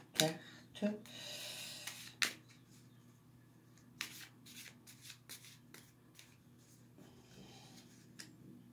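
Tarot cards are shuffled for a three-card reading: a few brisk riffles and rubs up close, followed by softer scattered taps and shuffling at low volume.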